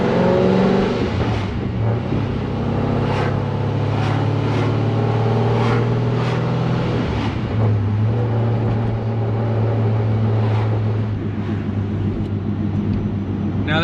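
Car fitted with a ProCharger centrifugal supercharger driving along, a loud steady engine drone with rising and falling revs and repeated whooshing surges throughout.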